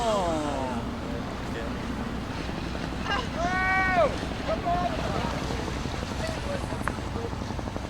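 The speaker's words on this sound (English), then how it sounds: "A fisher boat passes." A fishing boat passes on open water, its engine a steady low rumble under heavy wind noise on the microphone, with waves washing nearby and birds calling faintly.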